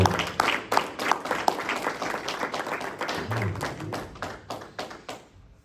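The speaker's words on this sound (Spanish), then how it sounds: "Un aplauso al Señor." Church congregation clapping rhythmically at an evening service, a roomful of hands beating in steady time for several seconds before fading out, fairly close with faint voices mixed in.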